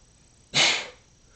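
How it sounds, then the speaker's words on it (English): A single sharp sneeze bursts out close to the microphone, a loud breathy blast lasting under half a second before fading into quiet room tone. "I feel like every time I turn this camera on, I have to sneeze."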